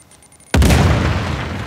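A grenade goes off in Uncharted The Lost Legacy as a single sudden, loud, close boom that cuts through a quiet scene and leaves a long rumbling decay.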